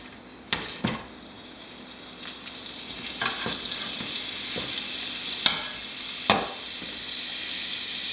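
Shallots and sun-dried tomatoes sizzle in bacon grease and butter for risotto, a continuous close frying hiss broken by sharp spoon knocks and stirring clatters against the pan, with no speech.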